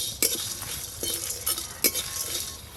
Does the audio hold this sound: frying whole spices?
yes